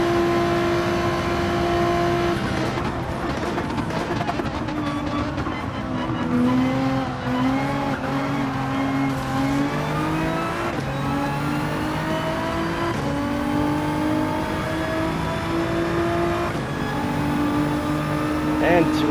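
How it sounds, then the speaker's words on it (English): A race car in Gran Turismo 7 crashing and skidding, engine revving and whining with shifting pitch alongside tire squeal, loud and continuous with talk over it. "Just like in the movies, he has totaled his car."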